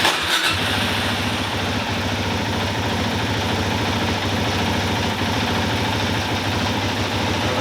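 A Suzuki DR-Z400 motorcycle engine cranks and fires up, then settles into a loud, steady low idle that runs on without pause.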